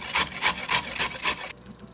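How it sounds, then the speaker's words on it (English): Carrots rasp against a coarse grater in about six rhythmic strokes, each a close, scratchy swipe, before stopping abruptly. "Now I'm going to grate the carrots."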